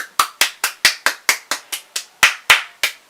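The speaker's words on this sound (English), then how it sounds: "Who are we clapping for?" About a dozen sharp, close hand claps in a steady, slightly uneven rhythm, with a brief pause near the middle. The claps are loud and dry, and no one talks.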